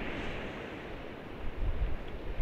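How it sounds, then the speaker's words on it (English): Steady roar of strong wind buffeting the microphone on a beach at Goring, with surf rumbling beneath and gusts swelling louder toward the end. "it's really, really surfy. The wind's definitely stronger than its forecast."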